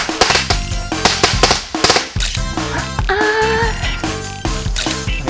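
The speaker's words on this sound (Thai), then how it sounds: "ตอนนี้ผมจะทำการสาธิตให้คุณผู้ชมดูนะครับว่าการจุดประทัดกันเขาทํำยังไงครับ" Firecrackers are lit as an offering to a deity, with a string of about 500 going off. Rapid, loud cracking bursts crowd together, then give way to a dense, continuous crackle of explosions close by.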